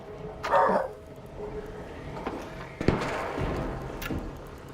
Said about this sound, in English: Sorry if you hear my dog barking.